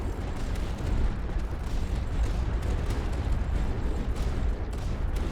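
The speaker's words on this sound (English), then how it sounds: "Just listen to the roar of the cannons and the missiles." Cannons and missiles fire continuously in the strategy game Tower Dominion, a dense, steady rumble of overlapping booms and blasts at moderate loudness.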